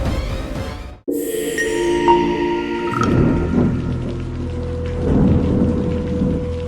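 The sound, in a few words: steady drizzling rain in a cartoon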